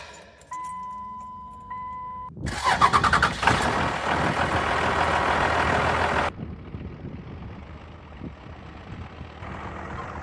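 A truck camper's engine cranks and catches after a chime of warning tones, roaring loudly up close for several seconds before dropping to a steady, quieter idle, in a red canyon during monsoon season.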